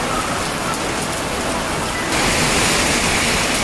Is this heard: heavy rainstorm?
yes